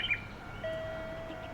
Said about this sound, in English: That's basically a noise for, I think it's for visually impaired people to try and find their way around